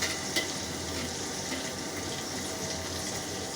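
Garlic frying in mustard oil in a wok, a steady close hiss and sizzle of hot oil running evenly throughout with a faint crackle near the start and no talk.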